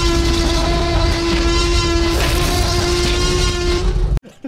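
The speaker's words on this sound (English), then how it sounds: "It's a choo-choo train!" In the Little Nightmares video game, a train rumbles steadily with a sustained horn-like tone for about four seconds, loud and close, then cuts off abruptly, leaving a short burst of noise.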